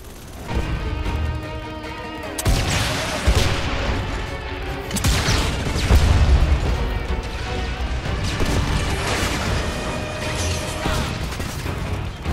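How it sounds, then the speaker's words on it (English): Explosions and gunfire from the war video game Starhawk roar continuously and loudly, with sharp blasts and crashes landing over a dense battle din and a sudden heavy impact partway through. "being at a full-on war with explosions going off and bullets flying around, things blowing up"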